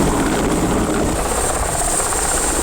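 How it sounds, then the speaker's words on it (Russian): Mi-8 helicopter arriving at a small airport in Izhma, Komi, its loud continuous rotor beat and turbine whine filling the air, close and steady. "Вот так-то наконец-то дождались вертолета."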